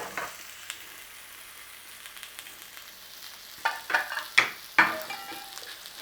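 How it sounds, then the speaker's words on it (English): Peppers scorch in a hot frying pan for a Chicken Bhuna, a quiet sizzle that swells into several loud crackling bursts as they hit the heat and get stirred. "In with the peppers. Again, scorch them up."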